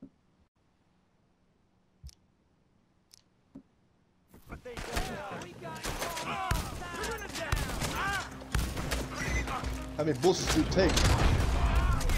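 Gunfire from the video game Red Dead Redemption: a few isolated clicks and shots in near silence, then a sustained, loud fusillade of rapid overlapping shots with a voice briefly heard.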